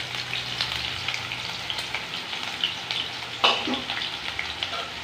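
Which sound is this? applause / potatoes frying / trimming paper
potatoes frying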